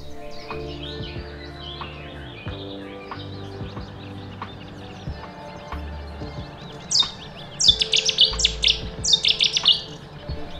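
A Cetti's warbler bursts into loud, explosive song phrases in the second half, over a quiet background with a low steady hum, on a morning in the Oostvaardersplassen wetland.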